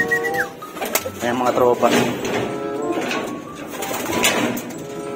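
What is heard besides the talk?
racing pigeons at the loft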